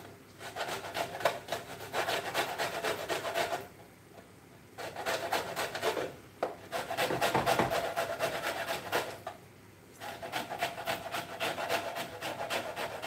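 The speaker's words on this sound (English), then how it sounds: "Then what we want is a grater. And what we want is the zest of the lemon." A metal grater rasps across a lemon for zest in a kitchen, with repeated quick scraping strokes in three bursts separated by short pauses, fairly quiet and close.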